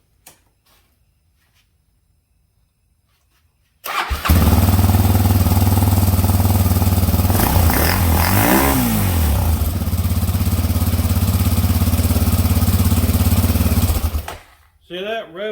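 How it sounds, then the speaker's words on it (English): After a stretch of near silence, a 2002 Honda 400EX ATV engine roars loudly to life, revs up and down in the middle, then cuts off abruptly. "See that? Revs up fine,"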